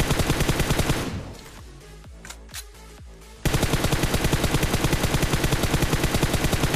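M416 rifle fire in a video game, loud rapid automatic bursts, a brief pause with a few scattered shots, then another long sustained burst.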